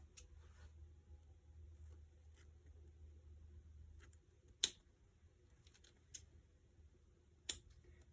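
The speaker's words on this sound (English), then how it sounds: "I'm going to angle cut the middle" Sharp scissor snips cut at an angle through wreath stems, a few isolated crisp clicks spaced apart over a low steady background hum, close and fairly quiet.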